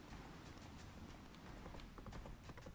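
Roach, the horse in The Witcher 3 video game, galloping at speed: a dense, steady run of rapid hoofbeats that stays loud and even throughout, with no talking.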